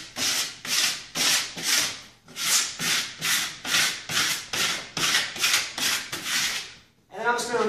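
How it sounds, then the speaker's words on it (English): Squeegee rubbed firmly back and forth over tape on a photo clock, a loud, close, rhythmic swishing stroke repeated about a dozen times, ending with a brief voice. "I'm going to take my squeegee and I'm going to rub over it"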